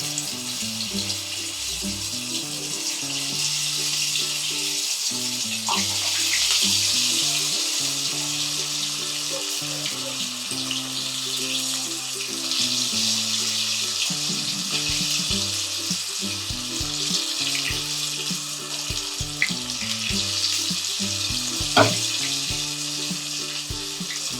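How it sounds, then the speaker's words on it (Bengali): Cauliflower pakoras deep frying in hot oil, a dense, steady bubbling sizzle that continues loud and unbroken throughout, with faint tonal sounds in the background and no talking. "এবার এটাকে আমি ডিপ ফ্রাই করব, একটা একটা করে দিয়ে দিচ্ছি আমি।"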